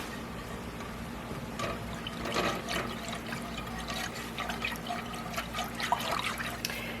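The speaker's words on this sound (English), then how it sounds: "you see it's starting to lightly boil" Pickling brine for radishes heats in a pot on a stovetop at medium-high and begins to lightly boil, giving a steady close hiss with faint bubbling and small irregular pops.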